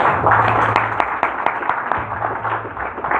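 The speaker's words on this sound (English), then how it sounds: "Please give him a round of applause, please." An audience at a political speech event at a school of politics in Abuja applauds with loud, sustained clapping from many hands, a low hum running beneath it.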